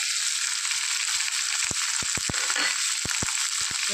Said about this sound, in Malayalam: എല്ലാം കൂടെ ചേർത്ത് നന്നായിട്ടൊന്ന് ഇളക്കി യോജിപ്പിക്കുക